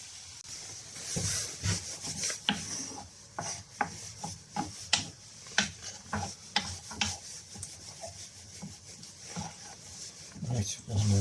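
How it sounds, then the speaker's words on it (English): Beans are emptied into a frying pan and cook on a cabin stove, giving a run of rough scraping, stirring and rasping noises with irregular rhythm, close by, over faint low background sound. "Empty the beans in the frying pan."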